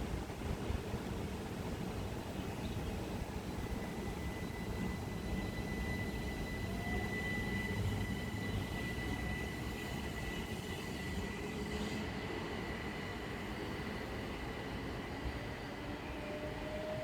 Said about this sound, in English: departing out now is the 10:35 Southeastern service from Ashford International to London Victoria